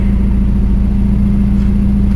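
A BMW 430i Gran Coupe with the B48 engine and an aftermarket exhaust drones at a steady, low, rumbling note, close and loud, with no voices.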